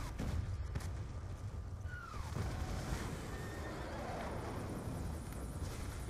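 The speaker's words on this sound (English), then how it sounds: "time to get my horse again" In the Black Ops 2 campaign mission Old Wounds, a horse gives a brief whinny amid a dense, steady wash of game battle noise, with hoof clip-clop and distant aircraft rumble possible underneath.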